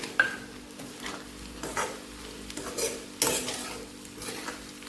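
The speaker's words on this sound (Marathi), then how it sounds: "छान हलवून घ्यायचं" Bitter gourd sabzi is stirred in a pan with a spoon over a low sizzle, making repeated close scrapes and clinks at an irregular pace, with no voices.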